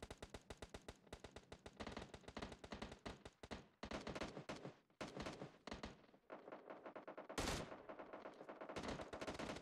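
Rapid automatic gunfire from PUBG Mobile rattles in quick repeated bursts with brief pauses, fairly faint overall, and one louder blast near the end.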